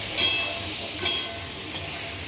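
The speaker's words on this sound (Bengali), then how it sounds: "আলু আর পেঁপেগুলোকে ভেজে নিচ্ছি" Steady sizzle of potatoes and papaya frying in oil, with a few louder scraping stir strokes breaking through the hiss.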